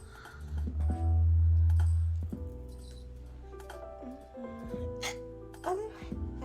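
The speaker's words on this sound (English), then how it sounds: "So I'm recording my hiccups while I'm streaming" Several short, sharp hiccups from a woman with drunk hiccups, screechy and close, scattered across a steady low hum, with brief vocal noises between them.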